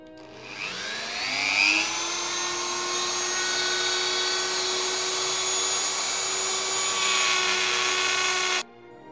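A rotary tool fitted with an aggressive tungsten carbide bit, used for carving a wooden whittling-knife handle, whines up to speed and holds a steady, loud, high-pitched tone for about eight seconds before cutting off abruptly.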